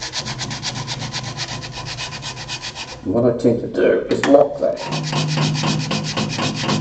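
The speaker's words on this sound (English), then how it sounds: "I'm sanding down this edge to start with" Hand sanding along the edge of a square wooden lidded bowl, steady rhythmic rasping strokes close by, breaking into uneven scuffs and handling noise midway before the even sanding resumes, with someone talking briefly at the start.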